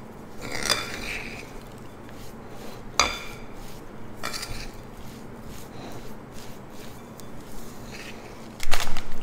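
A spoon stirs a truffle mixture with condensed milk in a bowl, giving scattered clinks and scrapes against the dish, some sharper knocks and a louder clatter at the end.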